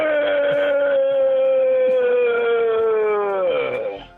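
A voice imitates a zombie with a long, drawn-out groaning moan held steadily for about four seconds, then sliding downward and breaking off at the end, loud and close with no other sound around it.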